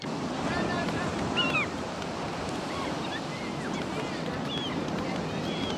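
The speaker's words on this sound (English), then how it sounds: "The beach." Waves break on a beach in a steady, fairly faint wash of surf that rolls on without pause, with soft higher sounds drifting over it.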